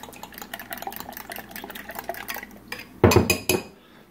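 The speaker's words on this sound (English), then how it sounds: "I hear the whipping of eggs" Eggs being whipped in a bowl while cooking goulash in a home kitchen, a rapid clattering of a utensil against the bowl, close and busy, ending in a louder burst of scraping and clinks.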